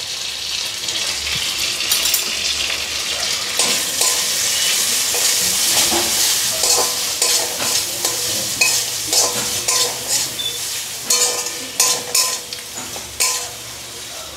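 Cabbage sautéing in a pan with garlic paste and dried chili powder for a Bengali coconut cabbage dish, a loud continuous sizzle with frequent spatula scrapes and clinks growing more rhythmic toward the end.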